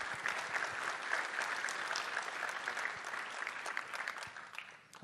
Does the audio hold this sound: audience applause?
yes